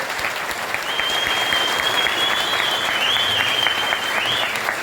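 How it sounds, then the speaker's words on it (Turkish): Sustained applause from the crowd at an HDP provincial party congress in Tekirdağ, dense and steady clapping throughout with a faint whistle-like tone riding above it, no talk heard. "Gezi'deki yoldaşlarımıza buradan güçlü bir selam, güçlü bir alkış"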